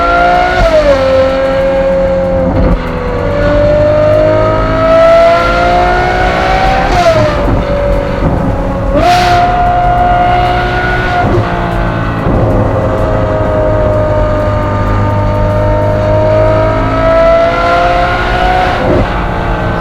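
A Ferrari 812 GTS V12 engine roars and rumbles continuously close by among trees, its pitch climbing and dropping through shifts, with brief bursts of revving and tire noise.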